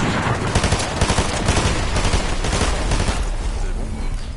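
Rapid bursts of gunfire from a battle royale video game, loud and dense, with shots crackling steadily throughout while players talk over the action.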